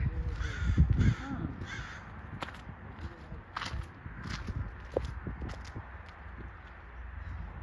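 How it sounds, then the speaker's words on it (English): Crows caw several times in a short series at a wildlife park in Kamloops, British Columbia, fairly close and clear, followed by scattered clicks and footstep-like rustles; no talking. "That is the birds. I don't know what kind of birds is that."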